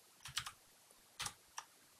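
Keys on a computer keyboard are tapped in a few quick, soft clicks, two close together, then a pause and two more single presses, faint and alone.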